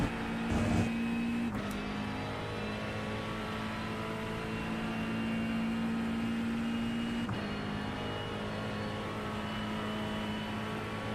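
McLaren GT3 race car engine in the iRacing simulator, a steady sustained engine drone holding a constant pitch, with a brief shift in tone near the start and again partway through, loud and continuous with no talk over it.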